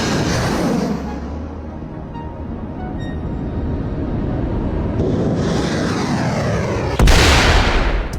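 A US Army tank firing a 120mm shell, a loud, deep booming blast with a long rolling rumble that echoes away, followed by a second sharp crack near the end.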